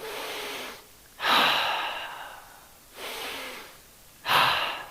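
Breaths during an exercise session come as two slow inhale-exhale cycles, each a soft airy inhale followed by a stronger, louder rushing exhale, close and clear with no talk.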